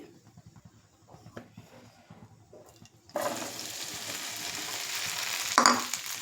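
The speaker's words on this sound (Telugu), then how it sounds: "వేసి మనం ఇప్పుడు ఈ బెండకాయలు ఫ్రై చేసేసుకుందాం." Okra hitting hot oil in a pan sets off a sudden loud, hissing sizzle about halfway through, following a quiet stretch of small clicks, and the frying then continues steadily with a brief louder burst.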